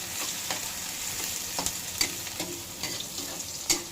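Garlic browns in a frying pan while dinuguan is prepared, a steady close sizzle with occasional scrapes and clinks of stirring.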